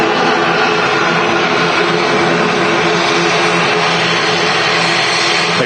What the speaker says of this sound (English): ATR 72, 7 years old, in from the Isle of Man, Loganair.